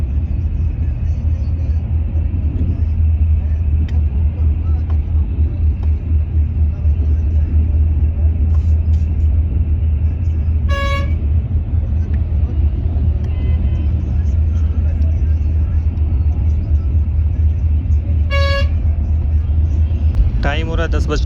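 A Volvo B11R business-class coach drives on the road toward Gurgaon, with a continuous heavy engine and road rumble, a couple of brief chime-like beeps, and voices faintly present inside the cabin.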